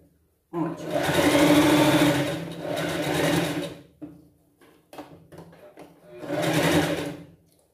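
A sewing machine stitching a gathered pet dress in bursts, three loud close runs of rapid whirring with short pauses and small clicks between them, and a voice talking briefly under the work.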